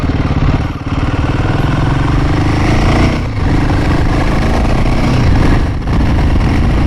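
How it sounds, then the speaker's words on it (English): A Royal Enfield Himalayan 450 motorcycle engine idles loudly and close up, a steady low throbbing pulse with a couple of brief dips in level. "I hope you can hear the sound of this engine"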